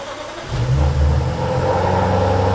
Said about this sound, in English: We're actually going for a first drive in the Jag.